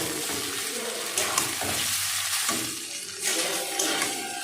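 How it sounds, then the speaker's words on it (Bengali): Onion, carrot, beans and yardlong beans being sautéed in a pan, a steady sizzle with intermittent spatula stirring and scraping, close and fairly loud. "তাই জন্য পেঁয়াজ একটু কষে নিচ্ছি, সাথে গাজর, বিনস, বরবটি সমস্ত কিছু দিয়ে একটু হালকা হাতে নেড়ে নেব"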